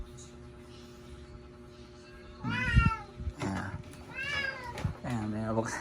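A pet cat named Pogi wanting to go outside meows several times in quick succession, drawn-out, rising and falling cries, close and clear over a quiet room hum.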